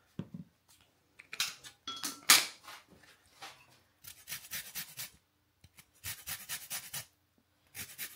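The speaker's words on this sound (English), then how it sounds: "I didn't zest it, did I? But hey," A lemon zested on a grater in a home kitchen, heard as bursts of close, scratchy rasping strokes with short pauses between them and no voices.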